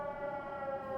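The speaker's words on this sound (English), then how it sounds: "It's the weekly siren from San Francisco." San Francisco's weekly city siren drones and wails without a break, loud and sustained, with a harmonic whine and no voices.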